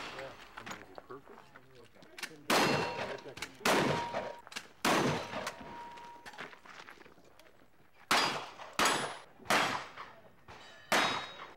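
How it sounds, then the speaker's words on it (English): Shotgun, rifle and pistol shots ring out at a cowboy action shooting match, a series of loud, sharp blasts with metallic clangs, spaced irregularly over background murmur. "Shooters fire their shotgun, rifle, and pistols"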